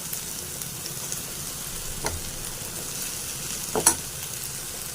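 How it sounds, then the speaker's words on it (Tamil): Raw plantain pieces tumble into a hot pan and are stirred, giving a steady, even sizzle with a couple of brief scrapes of the spoon against the pan, close up and without any voices. "இப்போ இந்த வாழைக்காய் எடுத்து நம்ம உள்ளே போட்டுக்கலாம்."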